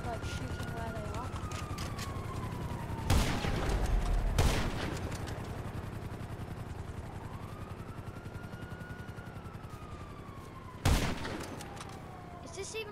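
Gunfire rings out in the video game GTA Online: a few sharp, loud bursts of shots, two close together early and one later, over a continuous helicopter-like whir.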